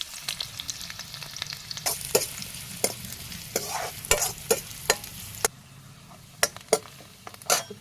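Onion and a chili dropped into hot oil, sizzling and frying with repeated sharp clicks of a utensil stirring against the pan, close and without talk.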